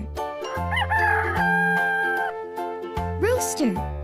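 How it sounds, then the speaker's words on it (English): A rooster crows a long cock-a-doodle-doo, loud and close, followed by a second rising call, all over a continuous background music bed. "Rooster."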